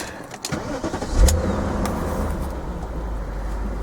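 A BMW M5 engine cranks briefly and fires up, settling into a loud, steady idle rumble right up close.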